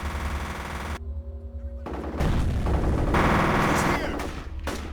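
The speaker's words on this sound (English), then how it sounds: "That's submachine gun fire." Rapid automatic bursts of submachine gun fire in the shooter game F.E.A.R., loud and close, with heavy dense rattling across the whole stretch, a brief lull near the start and a faint voice underneath.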